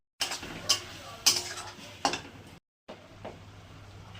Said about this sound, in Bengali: মশলাটাও দিয়ে দেবো, এবার ভালো করে কষিয়ে নেব।